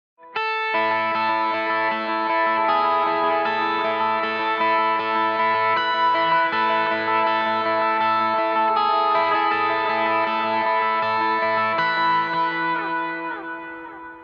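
Electric guitar through a Helix worship patch with drive engaged, playing sustained overdriven chorus chords that ring full and steady with shimmering modulation and ambience, then fade slightly at the end.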